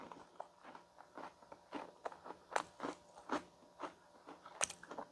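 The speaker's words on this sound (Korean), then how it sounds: "겉은 살짝 바삭하고" Crisp, crunchy bites and chewing of garlic cheese toast, close to the ear, in a quiet room, with a few louder crackly crunches among softer munching.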